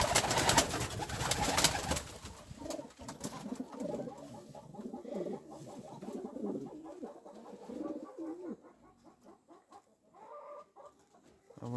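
A pair of red homing pigeons coo in soft, repeated rolling calls at close range, with a brief noisy rustle at the start and no talking.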